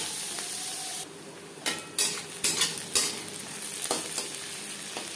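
Chopped onions, five or six medium ones, hit hot refined oil in a pan and sizzle steadily, with a few sharp spoon clinks and scrapes against the pan as they are stirred.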